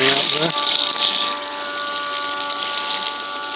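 A 12V 750GPH marine boat sump pump whirs loudly as water gushes out, then the flow settles into a steady hiss with a faint motor hum underneath.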